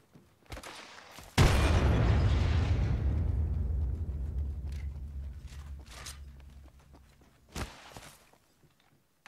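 Explosives blow open a door in Apex Legends: a sharp, loud blast erupts, then a long rumbling decay follows, framed by a few light footsteps and mechanical clicks before and after.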